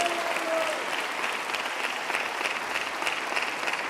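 A church congregation applauds during a Spanish-language gathering, a continuous wash of many hands clapping that sounds moderately distant and holds steady throughout.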